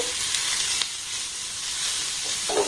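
Fried paneer stirred with other ingredients in a hot pan sizzles steadily, with a few scraping stir sounds and no talk.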